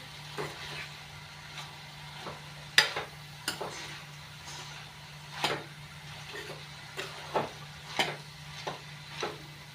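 A spoon scrapes and clinks against a pan while chili and turmeric are stirred into pumpkin sabzi, irregular scraping strokes over a faint steady sizzle, close and alone.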